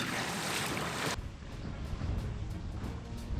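A sailboat crossing about 2 nautical miles of open water to Pipe Cay: a loud rush of wind and water for the first second, then a lower, steady churn of waves and wind buffeting. No voices.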